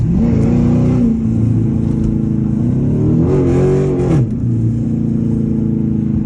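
A loud, raspy straight-piped Dodge Charger R/T exhaust revs up twice nearby, climbing and dropping back to a throbbing idle, with no voices.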